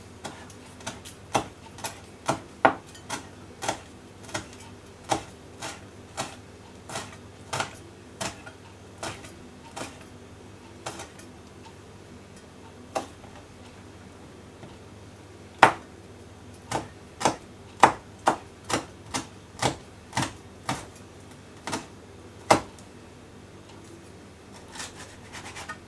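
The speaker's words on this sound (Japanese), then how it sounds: "唐辛子を切ります。" A knife chops chili peppers on a cutting board for a Korean yangnyeom chicken recipe, giving quiet, crisp taps in uneven bursts of quick strokes separated by brief pauses, with about two dozen strikes in all.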